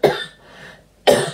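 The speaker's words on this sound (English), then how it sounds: "I have got this weird dry cough going on" Two short, harsh coughs separated by about a second, close and fairly loud, with a faint breathy pause between them.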